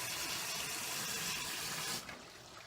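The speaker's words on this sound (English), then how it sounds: "And shoot some water down." Water from a hose rushing down into a hole in a koi pond filter, a steady loud hissing splash that cuts back abruptly to a softer trickle near the end.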